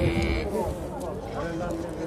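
A male lamb bleats at an outdoor livestock market, a short wavering cry amid crowd noise and other animal calls, with people talking over it.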